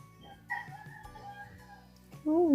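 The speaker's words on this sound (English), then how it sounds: "There's still the chicken crows." A chicken crows faintly in the distance outdoors after a snowstorm, a drawn-out wavering call, followed by a louder, closer voice-like sound at the end.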